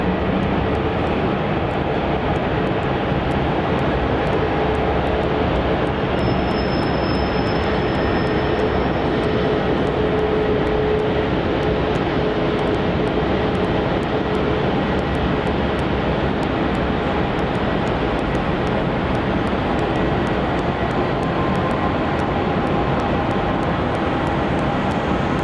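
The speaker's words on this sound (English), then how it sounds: "our next departure off runway 27 is QF flight 2196 heading off to Adelaide in a Dash 8 300" A Qantas Dash 8 300 turboprop departing runway 27 at Melbourne Airport, a steady loud engine roar with a faint tonal whine, continuous for the whole stretch, no voices.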